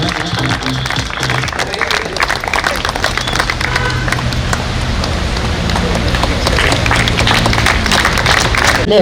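A crowd applauds loudly and continuously at a cricket team uniform unveiling during a floodlit Sankolige KPL season 8 cricket match, the dense clapping holding steady throughout.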